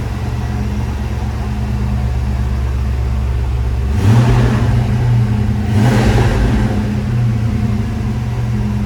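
A Ford SN95 Mustang GT V8 under rebuild runs with a loud, steady low rumble close by, rising in two brief revs before settling back to idle; no talking.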